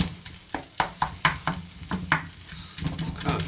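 Onions sautéing in a pan for creamed corn, giving a low steady sizzle broken by a run of sharp, regular scraping strokes as they are stirred about, close and fairly quiet with no talking.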